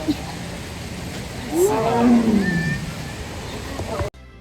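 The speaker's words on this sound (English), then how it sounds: "that was a tiger roaring, and they are loud" A deep, rumbling tiger roar swells up loud and close at the Detroit Zoo, holding for about a second before fading, over steady background noise.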